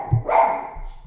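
A dog barks at people walking past the front yard, one sharp bark close by followed by a short lower growl-like tail, alone without talk.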